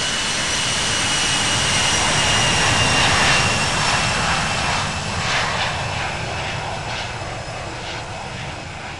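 Simulated airliner going around at London Heathrow in a flight simulator game, a loud, continuous jet engine roar that swells slightly then eases, alone without talk.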